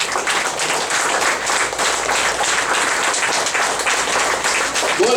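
A crowd at a meditation gathering breaks into sustained applause, a dense, steady wash of many hands clapping at close range that holds strong for the whole stretch without a pause.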